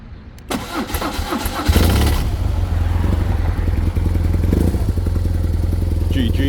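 A BMW motorcycle, its battery just reconnected after months of sitting, cranks briefly with a whirring starter, then fires up loudly and settles into a steady, throbbing idle close by.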